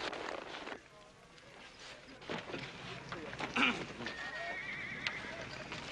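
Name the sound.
horse neighing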